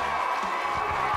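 Crowd applause at an evening club and bar awards ceremony in London, a brief, dense burst of clapping with a murmur of voices in the room.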